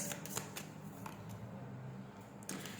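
Tarot cards being shuffled during a reading: faint, soft papery riffles and flicks in a few quick bursts over a quiet background, without talk.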